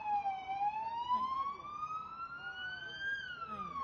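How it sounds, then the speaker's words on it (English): A police siren wails outside, its rising and falling tone sweeping steadily and clearly at moderate distance, with background bustle underneath. "you can hear the sirens in my earbud"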